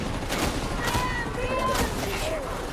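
Gunner enemies in the video game Darktide firing their guns, a dense continuous rattle of distant gunfire layered with chaotic combat noise.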